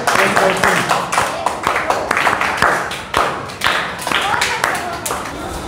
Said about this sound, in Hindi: हम लोग 3 JP ताली से स्वागत करेंगे।